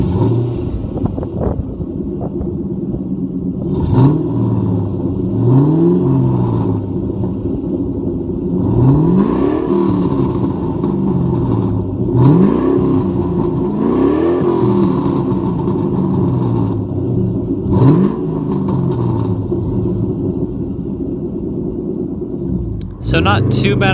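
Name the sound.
2001 Mustang GT with X-pipe and stock mufflers, heard inside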